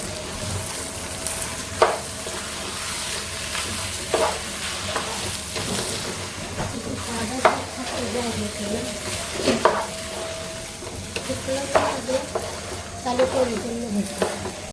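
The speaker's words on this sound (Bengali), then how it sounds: "এক কেজি চাল ভালো করে ভেজে নেব" Steady sizzling from a pot as rice fries with onions, with repeated scraping stirs and occasional clinks of a utensil against metal, continuing throughout without talk.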